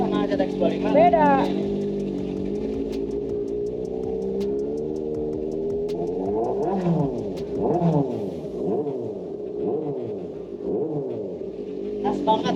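A Kawasaki ZX-636 motorcycle engine idles and revs in a garage, the pitch rising and falling through several sharp blips in the second half, with people talking over the steady engine note throughout.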